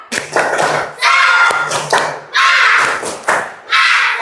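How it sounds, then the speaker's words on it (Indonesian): Schoolchildren in a classroom perform the rhythmic 'tepuk semangat' spirit clap as a group, in loud bursts of unison clapping and thumping separated by short pauses. "Tepuk semangat."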